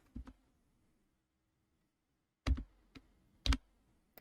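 Sparse keystrokes on a computer keyboard, a few isolated clicks then a short burst of several sharp taps, close and quiet in an otherwise silent room.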